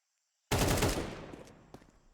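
Gunfire in a Counter-Strike match on the Dust 2 map: a sudden loud, rapid burst of automatic shots after a brief silence, then fading reverberation with a few faint later shots, with no voices.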